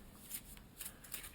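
A deck of clue cards is riffled by hand in a faint, quick shuffle, soft papery bursts repeating in short succession.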